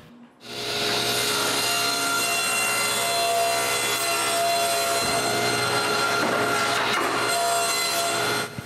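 A power saw rips a sheet of plywood to height in one long continuous cut, a loud close steady whine with rasping texture, starting abruptly and running unbroken before winding down.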